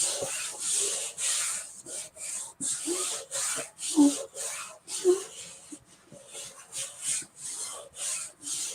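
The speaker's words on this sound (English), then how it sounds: "let's keep burnishing this down" A chalk transfer stencil being burnished down onto a wooden door tag by rubbing, heard as close, soft, repeated scraping strokes in a quick back-and-forth rhythm, with no talking.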